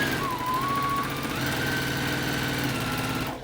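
A JUKI sewing machine runs steadily, stitching fabric with a lining into a quilted kitchen mitt. Its motor hums and buzzes continuously at an even level, close up, with no voices.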